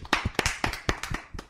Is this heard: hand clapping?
yes